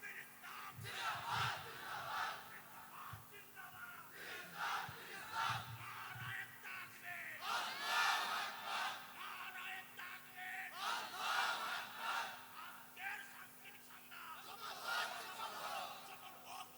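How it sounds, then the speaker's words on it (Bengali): A crowd at a nasheed gathering shouts slogans in unison, a massed roaring chant rising and falling repeatedly, somewhat distant and reverberant, with a steady hum beneath. "একজন ছাত্র ভাই দাঁড়িয়ে হুঙ্কার দিয়ে স্লোগান হবে"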